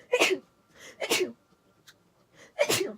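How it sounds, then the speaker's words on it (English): Three sharp sneezes burst out close by, with short breathy gaps between them, each one abrupt and loud against a quiet room. "I sneeze so much"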